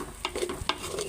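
Rice and lentils being stir-fried for khichuri, with a few quick scraping stirs against the pan over a soft sizzle.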